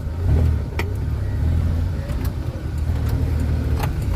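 Car driving along an unpaved dirt road, a steady close interior rumble of engine and tyres with occasional rattles and bumps.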